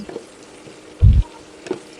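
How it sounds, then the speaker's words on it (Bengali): Chopped onion and green chilli hit lightly heated oil and fry with a soft, steady sizzle, broken by one brief low thud near the middle and a faint clink toward the end. "তেল হালকা গরম হওয়ার পর তার মধ্যে ঢেলে দিলাম এখানে দেখেন পেঁয়াজ কুচি, আর সাথে দিয়ে দিলাম কাঁচামরিচ।"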